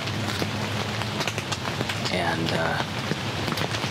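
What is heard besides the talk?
rain falling on ground blind in Pennsylvania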